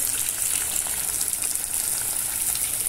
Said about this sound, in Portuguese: Aqui eu tô colocando água aqui